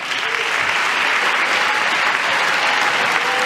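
Sustained, loud applause from a large audience during a joint address to Congress, a dense and even wash of clapping that continues without a break.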